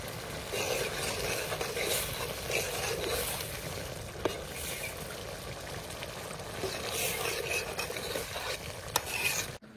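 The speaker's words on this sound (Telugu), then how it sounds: "ఇప్పుడు ఒకసారి కలుపుకొని" Mutton organ curry being stirred in a pot, with a steady rough scraping and bubbling hiss throughout, close and continuous, with occasional small knocks of the utensil.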